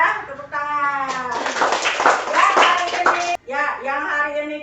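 Classroom of students clapping for a classmate: brief bursts of hand claps mixed with a voice and children's voices, lively and close.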